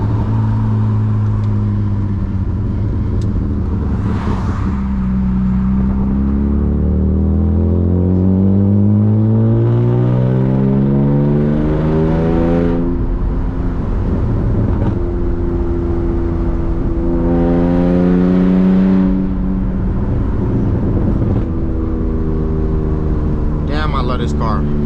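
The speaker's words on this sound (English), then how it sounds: "The car has a tune, it pops." A tuned, manual BMW E36 328i with a loud exhaust cruises in third gear, its engine drone rising and falling steadily. Occasional brief bursts of popping break through the close, continuous rumble.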